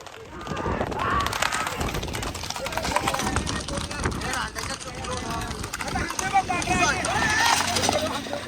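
Hoofbeats of horse carts racing at a rural bullock-cart race meet, a rapid clattering rumble amid a loud, noisy crowd, with someone talking over it throughout.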